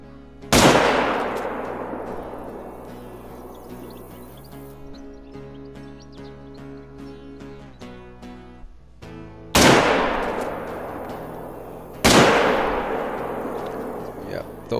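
Hunting rifle shots in theHunter: Call of the Wild on the Silver Ridge map, three loud, close blasts with long rolling echoes, spaced several seconds apart over soft background ambience.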